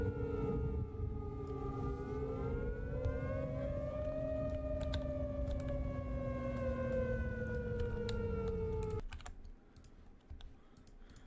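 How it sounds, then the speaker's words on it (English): Several sirens wail together in long rising and falling tones, steady and loud, then cut off abruptly near the end leaving faint background noise. "get me away from these creepy sirens"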